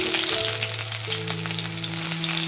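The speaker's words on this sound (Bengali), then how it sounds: "এবার এর মধ্যে কুচি করে পেঁয়াজ দিয়ে দিচ্ছি" Chopped onion dropped into hot oil with panch phoron and dried red chilli, frying with a loud, steady close sizzle throughout, no voices.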